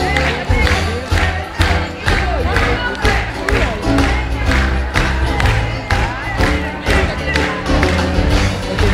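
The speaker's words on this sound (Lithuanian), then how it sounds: "o salė tuo metu ploja, kai smalsučiai ateina" An audience in a hall at a children's Christmas show claps in a steady rhythm along with lively music, the pulses loud and close, with crowd voices mixed in.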